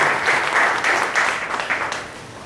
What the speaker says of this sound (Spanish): con esto agradecemos un fuerte aplauso a los compañeros de Yosinapa